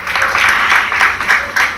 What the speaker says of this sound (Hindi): प्यारी बिंदु जी और प्यारी नूतन के लिए जोरदार तालियां।